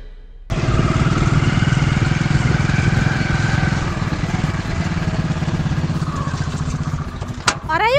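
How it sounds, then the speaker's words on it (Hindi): A motorcycle engine runs steadily and loudly from start to finish, a broad mid-range rumble that suggests a bike pulling up nearby, with voices talking over it. "अरे यू किसकी मोटरसाइकिल ले आया?"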